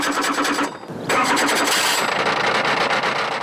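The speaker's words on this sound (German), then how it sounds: "Nach den ersten Startschwierigkeiten schnurrt der Öko-Racer zwar nicht wie ein Kätzchen, aber er läuft." An eco Formula 3 race car built from potatoes and carrots, its engine starting with a brief stumble before catching and running in a loud, continuous rough buzz up close.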